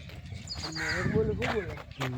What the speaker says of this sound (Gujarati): ગાइज મોર બોલે છે ઉપર